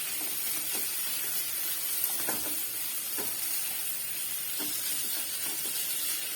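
Faint steady sizzling and hiss of an ingredient roasting in a pan with milk, with occasional soft stirring clinks.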